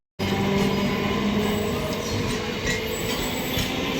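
A train rumbles steadily close by with a constant mechanical roar and faint squealing, heard alone without any voices.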